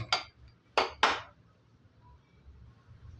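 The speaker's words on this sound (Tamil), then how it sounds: "இப்போ ஸ்டவ்வை பற்ற வச்சு ஒரு குக்கர் வச்சுக்கலாம்" A pressure cooker set down on a stove for mutton bone soup, three sharp metallic clanks close together within about a second, followed by quiet room noise.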